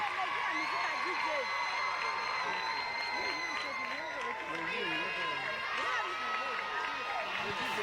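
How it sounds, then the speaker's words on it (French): A crowd applauds and cheers for a cow mascot before a match, steady loud clapping filling the space while an announcer talks over it through a PA. "Allez, on va applaudir la vache, Mon Savon au lait"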